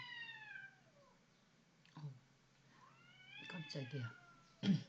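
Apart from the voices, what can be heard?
cat meowing behind the speaker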